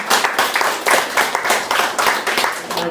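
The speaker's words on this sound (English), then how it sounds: "So round of applause for our three special guests." An audience at a club dress presentation applauds special guests, loud close clapping with a rhythmic, pulsing pattern as hands strike together in quick bursts.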